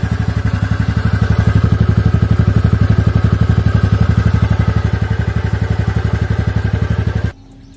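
TVS Ntorq 125 Race Edition scooter with an air-cooled BS6 125cc engine running, a close, loud, rapid and even thumping beat that holds steady for about seven seconds before cutting off abruptly.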